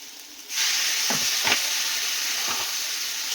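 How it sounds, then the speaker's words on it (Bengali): Masala frying in a pan breaks into a loud, steady sizzle as water is poured in, with a few scraping stirs cutting through the hiss; no voices. "একটু নাড়াচাড়া করে নেবো মশলাটা নয়তো পুড়ে যাবে একটু জল দিয়ে দিচ্ছি"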